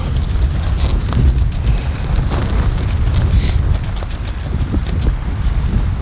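Strong wind in Alaska buffets the microphone in loud, continuous rumbling gusts, with faint splashing water in the background and no voices.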